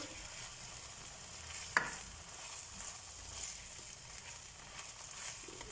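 Mixed vegetables sauté in a hot pan with a soft, steady sizzle and quiet stirring, and one sharp utensil clack partway through; no one speaks.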